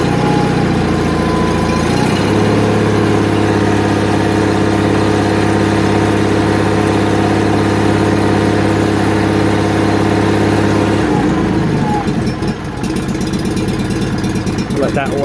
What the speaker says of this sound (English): It's a freaking riding mower